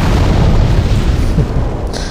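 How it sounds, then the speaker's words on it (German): An enemy blowing up in the video game Demon's Souls, heard as a loud, sustained rumbling boom that fills the whole moment and slowly fades away. "Der explodiert auch ganz gerne."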